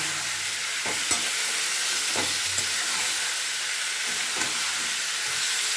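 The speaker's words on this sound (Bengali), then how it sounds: "এই মশলাটার সঙ্গে খুব ভালো করে কষিয়ে নিতে হবে" Chopped tomato is fried down with masala for a bitter gourd and potato curry. The pan gives a constant hissing sizzle, punctuated by a few sharp stirring knocks and scrapes, with no voices.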